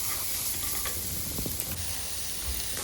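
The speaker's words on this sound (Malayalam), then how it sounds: "ഒരു ലൈറ്റ് ബ്രൗൺ ആവുന്ന വരെ സോട്ട് ചെയ്യണം" Chopped onions sauté in a pan with a steady, soft sizzle and occasional stirring scrapes, heard alone and fairly quiet throughout.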